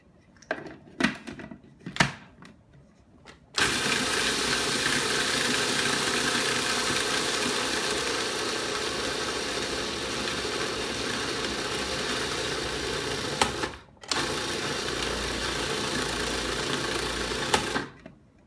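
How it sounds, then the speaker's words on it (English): Black beans and applesauce churn in a food processor, a steady loud whirring motor drone running continuously after a few opening clatters, with a brief pause near the end before the blending resumes. "We're going to process this for about 30 seconds till it starts getting smooth"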